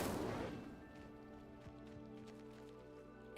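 An Incendio fire spell cast in Hogwarts Legacy bursts out loudly at the start and quickly fades. A low, quiet game ambience with faint scattered ticks follows.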